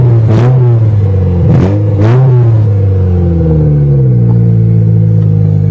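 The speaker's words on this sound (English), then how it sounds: "I opened the hood and beat the starter with a chunk of metal I found, so now see if it cranks." A Toyota GTS engine, freshly coaxed to life after its starter was struck with a chunk of metal, revs loudly and close by in a few sharp bursts, then settles into a steady droning idle.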